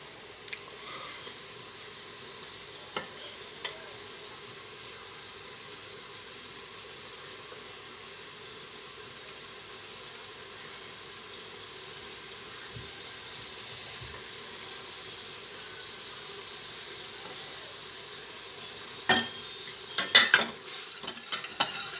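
Garlic sizzles steadily in a hot pan for a long stretch, a soft continuous hiss with occasional clinks and scrapes of stirring, close and fairly quiet.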